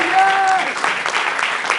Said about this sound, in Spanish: Alguien le dé un fuerte aplauso al Señor.